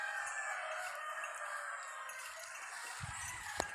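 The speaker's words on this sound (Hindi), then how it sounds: "ये देखिए मुर्गे का आवाज़ है सामने, देसी मुर्गे बंदे ने डाले हुए हैं" A desi rooster crows in the distance, faint and drawn out over a quiet outdoor background with some light rustling.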